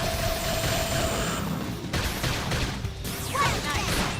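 Beam Barrage attack firing in Xenoblade Chronicles X Definitive Edition combat: a dense, continuous barrage of crashing energy blasts and impacts, loud and steady throughout, with brief brighter zaps near the end.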